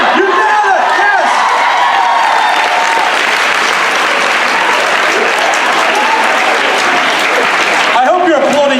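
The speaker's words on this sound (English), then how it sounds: "I hope you're applauding yourself" A crowd at a live show applauds loudly and continuously, mixed with cheers and whoops, heard close and filling the whole stretch, with voices talking over it near the start and end.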